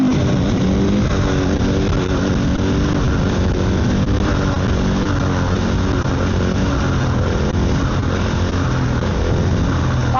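A KTM supermoto motorcycle engine revs hard while lifting a wheelie, a loud, steady, close roar that holds throughout with no one speaking.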